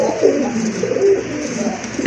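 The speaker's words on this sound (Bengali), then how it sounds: "গিরিবাজ কবুতর যারা পছন্দ করেন, পালন করেন বা কালেকশন করতে যাচ্ছেন, তাদের জন্য খুবই ভালো মানের এক জোড়া খয়রা গলা কবুতর রয়েছে" A pair of brown-necked giribaz pigeons coo close by in a soft, continuous throaty murmur with no other sounds around them.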